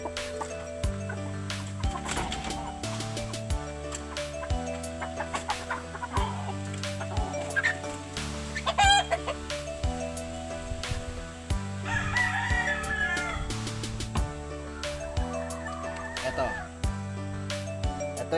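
A Laguna Pumpkin Henny rooster crows and clucks in a yard, sharp calls rising over steady loud background music that runs throughout.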